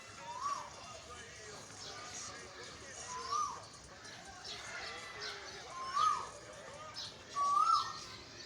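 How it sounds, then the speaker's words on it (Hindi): An Asian koel calling in summer near a karonda shrub, four faint distant rising whistled calls spaced a few seconds apart over a quiet outdoor background. "कोयल की भी आवाज़ आ रही है।"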